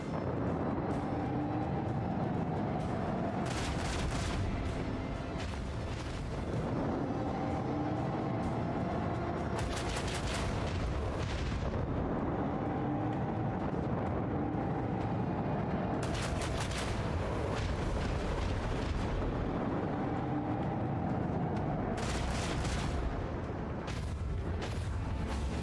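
Starship weapons fire in the Warhammer 40k: Rogue Trader video game: repeated loud broadband blasts and booming volleys in several bursts over a continuous rumbling battle background, with no talking.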